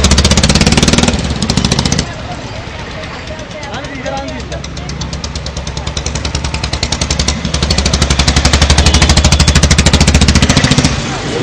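A custom-built, heavily modified motorbike about 11 feet long, with double shocks and Ducati sport-bike tyres, runs close by with a rapid, hammering engine thump that stays loud throughout, with a voice talking over it.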